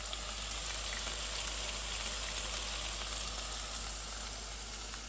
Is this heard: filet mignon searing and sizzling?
yes